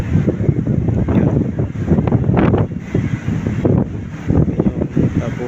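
Blustery wind on a boat near Cape Town, South Africa, a loud continuous rushing buffeting the microphone in uneven gusts, close and steady throughout.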